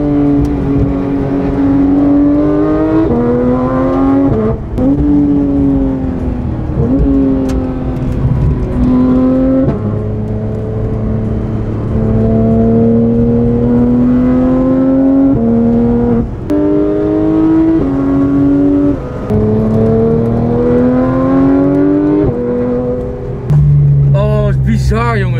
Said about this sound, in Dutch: Dat geluid van deze auto